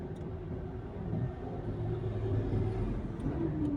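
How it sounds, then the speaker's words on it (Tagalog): Heavy road traffic late at night near Mega Mall, a steady low rumble of car engines and idling vehicles that swells slightly and holds throughout, with no talk. "grabe po ang tukod po ng traffic kahit alas 11 na po ng gabi"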